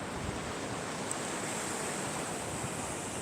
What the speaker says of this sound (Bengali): মাঝে মাঝে জল একটু সেদিকে চলে যাবে আবার জল সরে যাবে